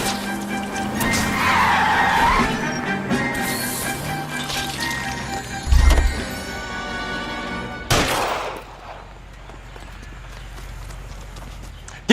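Tires skid and screech during a police car chase in the video game L.A. Noire. Engine roar runs under the skid, with a heavy thump and a sharp crash before it fades to quieter rumble.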